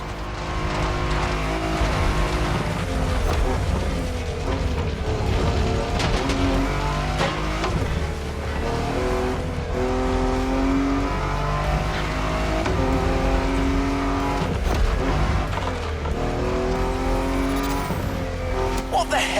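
A car roaring along an off-road trail in The Crew Motorfest, engine droning steadily with shifting revs and occasional tire scrabbles, loud and continuous while someone talks over it.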